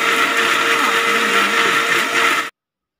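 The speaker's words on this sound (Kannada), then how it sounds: "ನೋಡಿ ಈ ರೀತಿ ನುಣ್ಣಗೆ ರುಬ್ಕೋಬೇಕು" An electric mixer grinder whirs loud and steady as it purees mint, coriander leaves and green chillies into a fine masala, running for about two and a half seconds before stopping abruptly.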